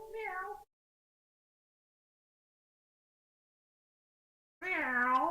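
A human voice imitates a cat with two drawn-out meows, one brief and one longer, separated by several seconds of silence, each clear and close.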